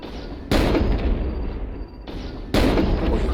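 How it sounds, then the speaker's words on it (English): Heavy AC-10 autocannons fire in MechWarrior Online, two loud booming volleys about two seconds apart, each a sharp broadband blast that rumbles and decays before the next shot. "you keep firing the AC-10s"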